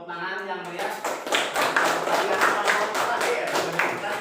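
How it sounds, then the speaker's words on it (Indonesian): Classroom applause from a group of students, a dense burst of clapping that starts abruptly after a moment of talk and continues steadily at an even level, close and moderately loud. "beri tepuk tangan yang meriah."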